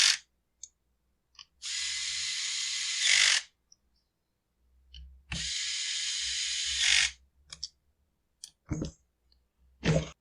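Ratchet cranking down the starter on a Husqvarna 450 chainsaw, giving two sustained bursts of fast, close clicking separated by a pause, with scattered sharp clicks and knocks around them.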